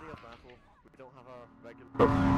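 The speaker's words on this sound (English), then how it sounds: "Explosions" Explosions and artillery fire in the Planetside 2 online shooter: one loud, heavy blast erupts near the end after a stretch of voices talking over game chatter.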